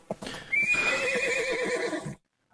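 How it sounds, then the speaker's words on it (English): Horse hooves and a loud, drawn-out neigh, with a few hoof clops at the start before the whinny takes over and then stops abruptly. "You hear the hooves of horses."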